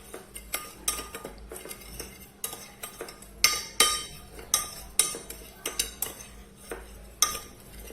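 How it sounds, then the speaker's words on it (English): Spoon clinking and scraping against a bowl while stirring sugar and cinnamon powder together, a run of irregular sharp metallic taps and scrapes, close and moderately quiet, with no talk. "cup of sugar with 2 teaspoons of cinnamon powder in a bowl, and then we'll mix."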